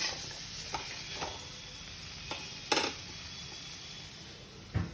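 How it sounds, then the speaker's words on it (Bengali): Prawns frying lightly in ghee and white oil, a soft steady sizzle broken by a few sharp clinks and scrapes of turning, with no voices. "চিংড়ি মাছটা আমি একটু ঘি আর সাদা তেলে ভেজে নিলাম এপিট ওপিট করে হালকা করে"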